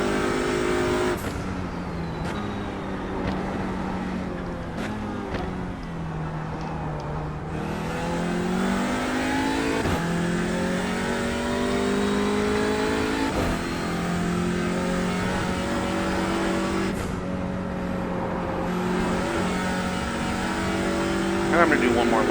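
A TCR race car engine laps Barber in the iRacing sim, revving hard and climbing through gears with sharp shifts, then dropping pitch under braking before winding up again, loud and continuous throughout with no talking.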